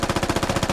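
Rapid automatic gunfire in the military shooter game Squad, about nine evenly spaced loud shots in under a second, close and punchy.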